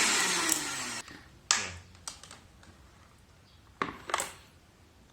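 An electric blender running empty with no load, drawing about 158 watts, whirs loud and steady for about a second, then cuts off, followed by a few scattered clicks and knocks.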